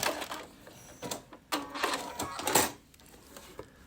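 A Baby Lock Solaris sewing machine stitching a buttonhole, rapid mechanical whirring in several short runs with brief pauses, close and clear with no talk.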